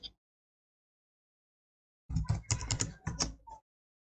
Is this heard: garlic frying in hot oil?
no